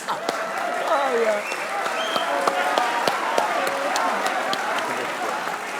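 Steady, dense clapping from a studio audience on a Pakistani cricket comedy show, loud and continuous throughout with scattered voices and a few whoops mixed into the crowd.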